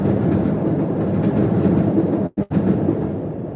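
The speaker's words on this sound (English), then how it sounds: "Y'all hear the train whistling by?" A train rumbles past, giving a loud, dense, steady roar of rail noise that fills the clip. It cuts out briefly for a moment near the end, with no talk.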